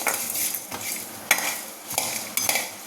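Coriander seeds, coconut, cinnamon, cashews and poppy seeds dry-roasting in a pan, a spoon scraping and stirring in quick repeated strokes with a light crackle, close and clear.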